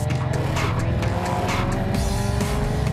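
FIA F3 single-seater race car at the Red Bull Ring, its engine roaring loud and close throughout, with a steady high-revving drone and some tyre noise.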